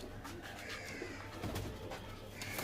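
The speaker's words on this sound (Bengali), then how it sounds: "বন্ধুরা পায়রা দুটো ওই যে দেখুন, পিছনে আছে।" A pair of Jiria breed pigeons coo softly in a brief, low, throaty burst. They are heard faint and slightly distant.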